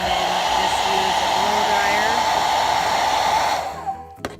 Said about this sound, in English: use a blow dryer for just a few seconds, just so it's a little bit more pliable